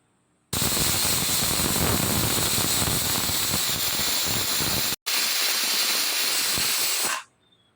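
A stovetop pressure cooker with chickpeas lets off its third whistle, a loud, sustained burst of hissing steam for over six seconds with a split-second gap near the end before it fades out.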